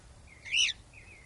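A pet cockatiel gives a single short, bright chirp, close and clear over a quiet room background.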